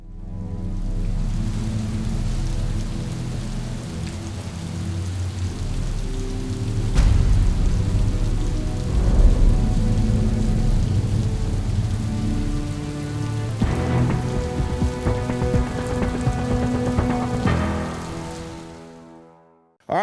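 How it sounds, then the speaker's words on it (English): Heavy rain falls outdoors in a dense, continuous roar of drops on surfaces, swelling in places before fading out at the end. "It's raining like a cow peeing on a flat rock right now."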